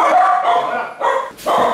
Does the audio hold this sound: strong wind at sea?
no